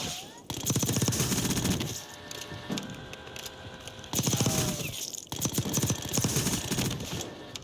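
Rapid SMG bursts from the Black Ops 6 video game, including the Grau, Amax, Kilo or HDR, rattle loudly in long sustained strings with brief pauses between, close and dominant.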